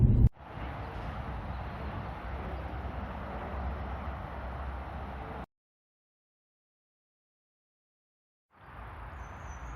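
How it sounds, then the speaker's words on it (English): Faint, steady wash of distant road traffic behind a 2005 BMW 630i, broken by a stretch of near silence before the hum returns. "Do apologise for the noise of the road in the background."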